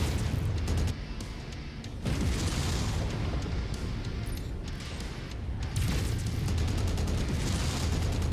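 Missiles burst in heavy booming blasts during a mech battle in MechWarrior 5: Mercenaries, dense rumbling explosions layered over continuous combat noise, with sharper bursts near the start and again toward the end.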